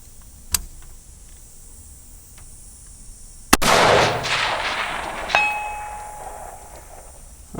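A recce rifle fires at a steel target 455 yards away: a sharp muzzle crack, then after a short delay a loud ringing clang from the struck steel that decays slowly, with a fainter click beforehand.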